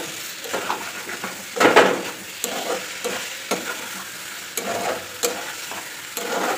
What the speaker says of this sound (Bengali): এখানে একটু 10 মিনিটের মতো ভালো করে কষিয়ে নিতে হবে